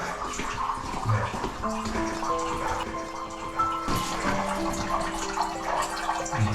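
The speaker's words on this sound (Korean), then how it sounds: "물이 엄청 쫄쫄쫄쫄 나와요." Water trickling slowly from a tap on a mountain trail near a temple, a thin continuous splashing stream with faint tonal ringing as it fills, quiet and steady, with no talk over it.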